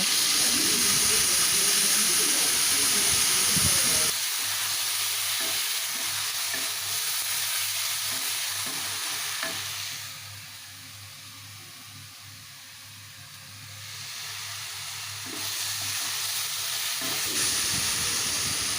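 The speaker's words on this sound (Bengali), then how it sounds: "কড়াইতে আবার আমি তেল দিয়ে গ্যাসে বসিয়ে দিয়েছি। তার মধ্যে মিক্সি করে নেওয়া পেস্টটা দিয়ে দিলাম।" A blended spice paste sizzles and fries in hot oil in a kadai on a gas stove, a loud steady hiss that drops to a softer simmer midway before rising again, with stirring clinks and no talk.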